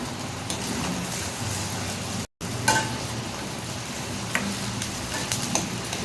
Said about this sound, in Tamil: ஒரு 3 முட்டையை பீட் பண்ணி இந்த எண்ணெயில் சேர்த்துக்கிடலாம்.